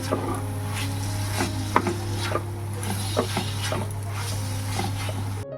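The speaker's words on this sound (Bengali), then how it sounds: "চিংড়ি মাছগুলো দিয়ে আবারও মশলার সাথে ভালোভাবে নাড়াচাড়া করে নেব" Prawns stirred into fried spice paste in a pan, giving intermittent scraping and clinking taps of a spoon against the pan over a steady low hum, with faint sizzling underneath and no talk.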